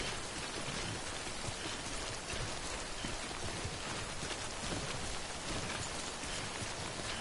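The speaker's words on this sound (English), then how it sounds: "I'm stuck in the rain." Steady, dense rain pours in the video game Death Stranding, a continuous hiss of drops hitting surfaces with no pauses, loud and close, with no voices over it.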